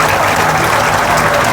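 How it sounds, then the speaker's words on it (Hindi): Loud, dense applause from a large crowd at a seven-day Srimad Bhagwat Katha religious discourse in Gorakhpur, a continuous close roar of clapping throughout. "इसलिए आप अपने लिए भी जोरदार तालियां बजाओ।"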